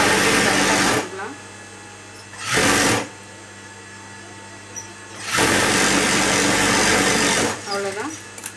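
A sewing machine stitches blouse lining onto the blouse fabric in loud, close bursts of rapid whirring separated by pauses, with someone talking in between the runs of stitching.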